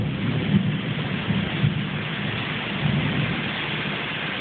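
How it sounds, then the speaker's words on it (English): Thunder rolls through a tropical rain storm, a low, dull rumble beneath a steady, dense hiss of heavy rain that continues throughout. "Just heard a clap of thunder."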